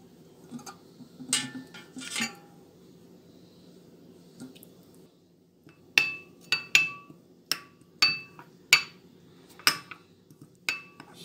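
Bun dough ingredients with dill, salt, oil and water are mixed in a bowl, heard as a string of sharp, close clacks and taps of utensil against bowl with quiet gaps between them.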